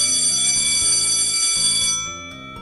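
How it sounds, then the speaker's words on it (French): A school bell rings loudly and continuously for about two seconds in an anime school scene. The bright, sustained tone cuts off and leaves a quieter tail, with no talking. "La sonnerie m'a niqué les oreilles."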